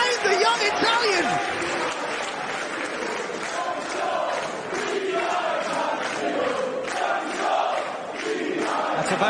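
Wrestling crowd at a PROGRESS event roaring and cheering loudly and steadily, the noise split between two wrestlers, with no pauses.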